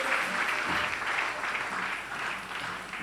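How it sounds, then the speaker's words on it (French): A church congregation applauding to acclaim the Lord, a steady wash of many hands clapping together, sustained and moderately loud throughout with no speech over it. "Acclamons le Seigneur."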